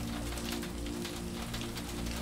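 Steady rain falls continuously, a dense even hiss of drops pattering on surfaces with no voices, heard as a constant close wash of sound.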